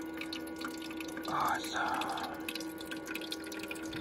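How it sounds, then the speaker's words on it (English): Water pours into a Magic Chef portable ice maker in a short, close splashing burst against a steady hum, and a voice gives a brief exclamation. "Just filling the water up."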